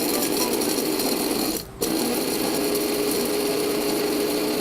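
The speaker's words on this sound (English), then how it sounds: "Then I'm going to grind them for a few seconds." A Waring grinder grinds cut vanilla bean pieces with a loud, steady high-pitched motor whine that briefly drops out and then resumes just as strongly.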